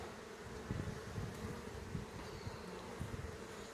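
Honeybees buzzing around a beekeeper during a summer hive inspection, a steady close insect drone with a few nearer passes, alone without talk.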